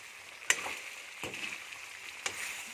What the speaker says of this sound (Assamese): এতিয়া এয়া মাংসখিনি অকণমান আৰু অলপ মই ধুনীয়াকৈ হিলাই কৰি দিম